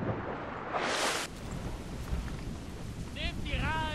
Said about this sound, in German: Ja, das ist Donner und Blitz